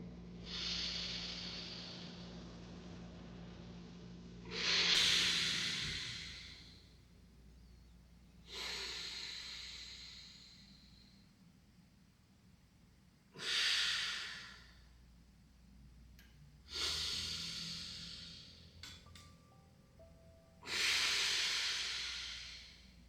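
Slow, deep breaths come in long airy waves, each strong exhale rising and fading with quiet pauses between, heard close and alone.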